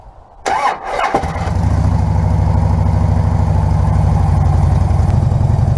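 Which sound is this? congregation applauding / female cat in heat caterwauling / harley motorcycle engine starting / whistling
harley motorcycle engine starting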